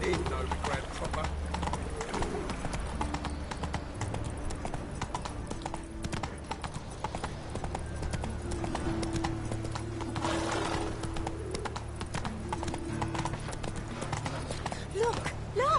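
Horse hooves clip-clop at a steady gallop in a video game, continuous and fairly close, with whinnies and other sounds mixed in and voices talking over them.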